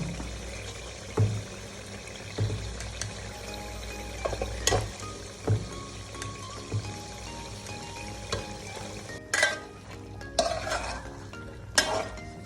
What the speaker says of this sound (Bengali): শাকটা দিয়েছি, এখন ভালোভাবে কষানো হবে আবার শাকটা